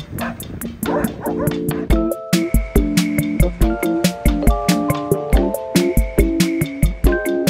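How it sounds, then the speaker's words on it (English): Several small trembling puppies whimper and yip in quick, high-pitched bursts, close by, with steady short yelps repeating throughout and soft murmuring in the background. "Have little trembling puppy dogs here."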